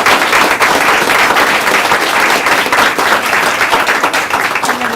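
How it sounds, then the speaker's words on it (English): A room full of people at a county board of commissioners meeting gives a sustained round of applause, dense and loud clapping for the full stretch without a break. "If we could do a final round of applause for all of you."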